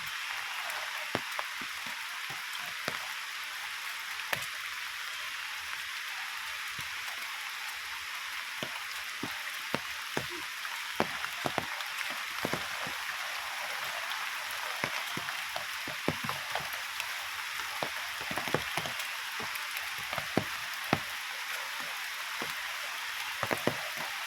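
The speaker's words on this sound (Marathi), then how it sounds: "पाऊस आला आहे, पाऊस चालू आहे." Rain falling over a teak plantation, a steady soft hiss of drops with scattered louder patters on nearby surfaces, continuous and without speech.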